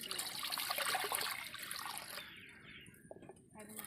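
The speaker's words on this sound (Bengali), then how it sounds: "এখানে উনুনটা ধরিয়ে নিয়েছি, কড়াটা বসিয়ে দিয়েছি। এই জল দিয়ে দেবো।" Water poured into a wok set on a lit stove, a steady splashing trickle that runs for about two seconds and then tapers into faint drips, heard close and fairly quiet.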